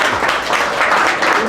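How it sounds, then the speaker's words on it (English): Audience applause fills a gala hall, a dense, steady wash of many hands clapping and cheering for the whole moment, loud and close with no pauses. "can you just clap for your blackness real quick?"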